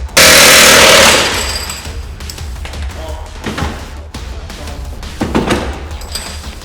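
A pneumatic wheel gun removes a BTCC race car wheel, opening with a loud rattling burst and followed by clunks and thuds of the wheel being handled nearby.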